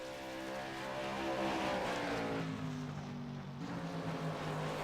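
Race cars at a charity racing event idle and rev as they line up for qualifying, a steady, loud, layered engine drone with shifting pitch throughout and no one speaking.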